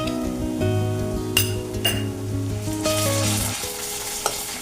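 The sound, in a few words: garlic added to frying onions in pan, stirring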